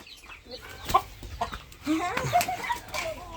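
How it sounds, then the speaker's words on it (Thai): Chickens clucking and squawking up close in agitated bursts, with some handling noise and faint voices mixed in. "จับไก่มาแล้ว"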